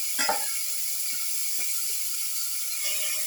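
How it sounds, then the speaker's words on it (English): Marinated beef or veal pieces sizzling in a hot pan for a pepper garlic beef pilaf, a steady hiss with a sharp crackle at the start and a few small pops, nobody talking. "Now put in the marinated beef or veal pieces"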